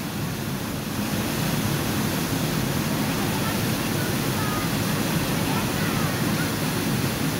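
Strong rushing current of a waterfall roars as steady, broadband noise, continuous and loud without breaks or distinct events throughout.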